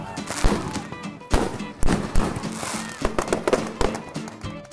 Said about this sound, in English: There's still fireworks blowing up behind me.